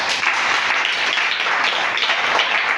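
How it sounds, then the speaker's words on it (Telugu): Loud, dense clapping from a large congregation at a Telugu Christian sermon, sustained and steady throughout, with no voices over it. "చప్పట్లు కొట్టండి గట్టిగా"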